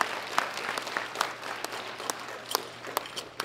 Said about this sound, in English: Big round of applause for these three fine young ladies.